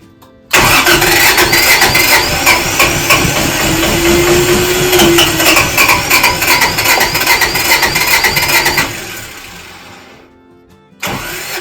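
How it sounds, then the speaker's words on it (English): A diesel generator at an off-grid cabin in Canada cranks over and catches, running loudly with a rapid rhythmic clatter for several seconds before cutting out, then starting briefly again at the end. "There's cleaner in the diesel tank. Let's fire it up."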